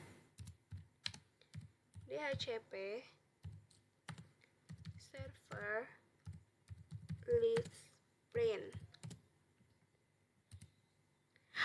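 Commands are typed on a computer keyboard during a networking lab: steady, light key clicks tap along in short runs while a person speaks over them.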